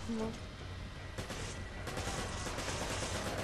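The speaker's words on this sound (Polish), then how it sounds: "Strzela w beczki, strzelaj." Gunfire from shooting at barrels in Resident Evil 5 on co-op veteran difficulty, a dense continuous rattle of shots and crackling impacts throughout, with a voice speaking briefly at the start.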